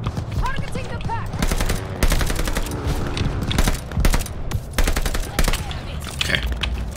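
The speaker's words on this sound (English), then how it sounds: "Enemy machine gun." Enemy machine gun fire in Call of Duty Vanguard, with rapid, loud bursts of automatic gunfire repeating in close succession amid battlefield noise and scattered voices.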